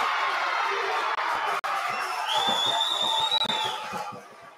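A crowd at a local sports match cheers and roars in a sustained wash of noise, with a high shout or whistle rising above it midway before the din eases.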